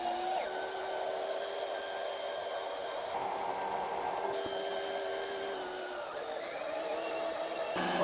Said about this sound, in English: So I'll take my 12-volt pump and connect it to the battery